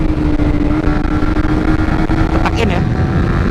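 A 2017 Suzuki GSX-R 150 motorcycle being ridden fast, its engine droning steadily and loudly with wind rush throughout while a rider talks over it.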